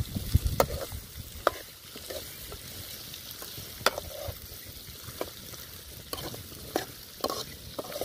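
Raw mango shak cooks with asafoetida in a pan, a steady close sizzle broken by scattered utensil scrapes and clinks as it is stirred, no talking heard.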